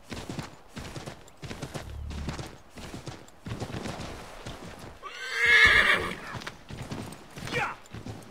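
Rhythmic hoofbeats of a galloping horse in Assassin's Creed III, with a loud whinny rising in the middle, against a steady game soundtrack.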